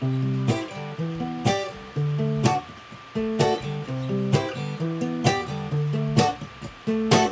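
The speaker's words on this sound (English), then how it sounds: "Your right hand is going to be doing a finger picking technique which allows you to sound like a full band" Plucked acoustic guitar in a bouncy reggae pattern, bass notes alternating with sharp percussive chops on the offbeats, steady and close.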